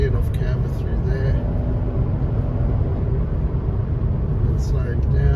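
An old automatic car driven hard, its engine a steady low rumble with slight rises as it changes gear, close and continuous. Someone talks over it.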